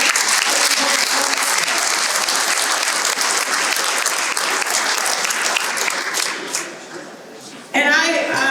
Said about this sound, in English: How about another round of applause for Randy Boyd?